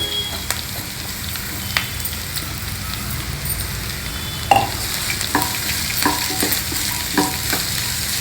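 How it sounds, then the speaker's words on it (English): Chopped bitter gourd and onions frying in a pan, a steady close sizzle with scattered clicks and scrapes of stirring running throughout. "When the onions become translucent, we'll add this chopped bitter gourd."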